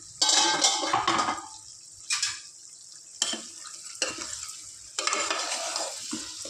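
Tomatoes cook in a pan over a low gas flame for a chicken curry. A soft sizzle sits under a few sharp stirring and scraping strokes against the pan, with no talking.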